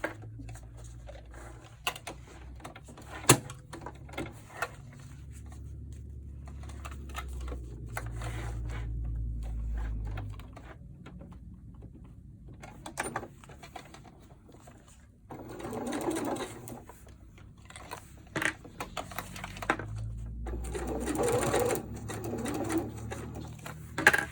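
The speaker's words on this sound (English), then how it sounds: "go ahead and you're going to sew that down" A sewing machine stitching a French seam on a cloth diaper, running in bursts of rapid mechanical whirring separated by pauses, quiet clicks and fabric handling.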